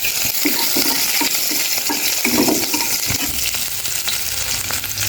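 Dried red chillies and green chillies fry in hot oil, a dense, steady sizzle close up, broken by scraping and stirring clatter from the pan.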